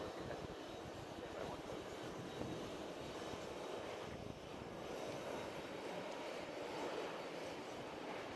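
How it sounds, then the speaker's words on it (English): A Delta Airbus A330 or A350 landing at JFK airport: a steady, broad jet engine roar that stays loud and even for several seconds, heard from a distance with no talking. "It's like a A330 or A350 from Delta coming."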